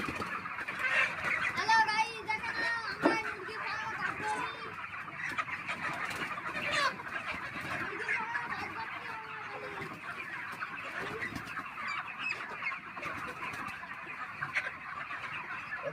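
Chickens clucking in the early morning, a continuous, moderately near chorus of overlapping clucks and calls from several birds over a steady background.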